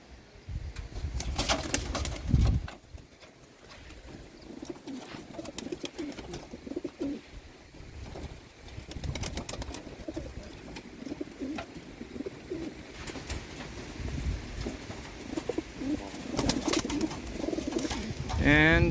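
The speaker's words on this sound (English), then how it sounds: "So here are the old birds." Racing pigeons in a loft coo repeatedly, with bursts of wing flapping and shuffling around them, close and fairly loud, while a person talks at intervals.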